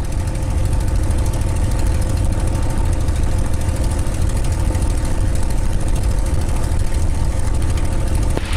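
A P-51 aircraft engine runs steadily and loudly during a pre-flight run-up, a dense, rough, continuous roar with throbbing low rumble and no pauses.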